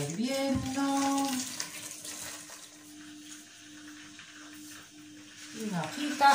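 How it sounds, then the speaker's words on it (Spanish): Tap water runs steadily into a cooking pot in a home kitchen as it is filled for boiling pasta, a soft, continuous stream heard while someone talks over it. "Ponemos el agua hirviendo."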